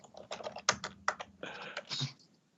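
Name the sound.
typing on a computer keyboard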